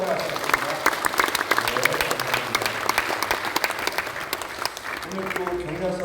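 A congregation at a Sejong city joint Easter service claps warmly, with sustained close applause mixed with a voice speaking over it.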